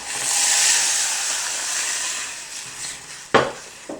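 Beef broth poured into cooked, translucent onions in a hot pan on the stove for keto poutine, a loud steady hiss and sizzle that slowly fades, with a couple of sharp clinks near the end.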